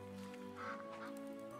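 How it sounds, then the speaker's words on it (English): Cartoon ducks quack and honk in a short, busy burst during an animated pony episode, fairly faint and mixed with the show's music and background sound. "Ducks. And a cormorant, is that?"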